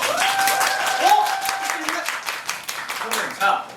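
An audience at a musical curtain call claps steadily throughout, a dense patter heard beneath a performer's speaking and half-sung voice.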